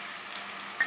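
Brief, steady sizzling hiss of tomatoes and green chillies sautéing with ginger-garlic paste in a hot pan for a vegetable kurma.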